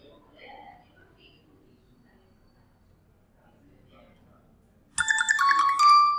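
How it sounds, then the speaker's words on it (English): A mobile phone rings with an incoming call: a loud electronic ringtone starts abruptly after a long near-silent stretch with faint talking. "my phone should be called."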